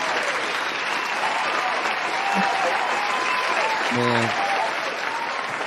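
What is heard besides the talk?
audience applause for Joe K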